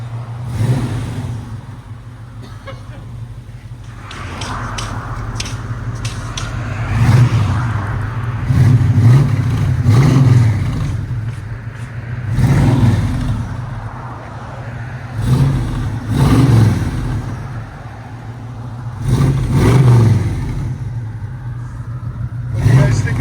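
A 1971 Chevy Chevelle with a 454 big block V8, exhaust cutouts open and Flowmaster mufflers, rumbles at a lumpy idle and is blipped in about six sharp, throaty revs spaced a few seconds apart, close by.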